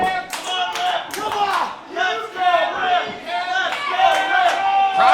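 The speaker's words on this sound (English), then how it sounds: "Crowd is on fire tonight for these two." A wrestling crowd at a live indie match roars and chants in rhythmic waves, with clapping and shouted voices rising and falling; a commentator's voice is faintly mixed in.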